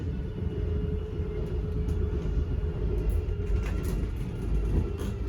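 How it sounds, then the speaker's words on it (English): The slide-out motors on a 2025 Forest River Surveyor 32CAMP RV give a steady, low mechanical rumble and drone that runs unbroken and fairly loud throughout, with no speech. "You hear the motors wind, so you know it's at its full extension now"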